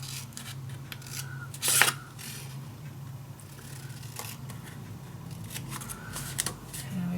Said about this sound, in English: now what I'm going to cut out is these corners